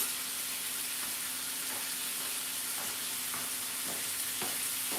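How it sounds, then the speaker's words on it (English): Chicken sizzling in a pan on a home stove, a steady frying hiss with occasional sharper crackles and stirring clicks, close and continuous without talk. "That's the sizzle you want to hear."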